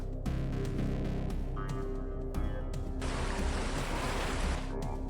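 Steady rushing waterfall in the AM2R video game, a broadband wash of water noise that holds throughout and thickens toward the end, with no talk over it.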